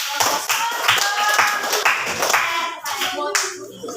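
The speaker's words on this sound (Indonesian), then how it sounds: "Oke, jadi tepuk tangan untuk" A group of people clap their hands together, the sharp irregular claps close and fairly loud, mixed with a little chatter and voices over a few seconds before fading.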